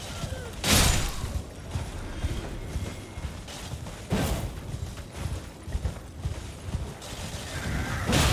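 Horse neighs and gallops in Elden Ring while riding out in Liurnia of the Lakes: a loud whinny near the start and another midway, over steady hoofbeats and game ambience.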